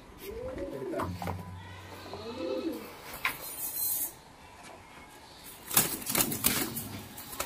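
Pigeons coo in soft, rounded bursts, two near the start and more later, close by amid clattering and rustling at a bird sale.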